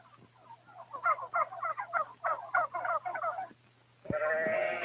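Turkeys on a farm give a quick, bubbling run of gobbles for several seconds, moderately loud and close. A pause follows, then a higher, harsher call cuts in near the end.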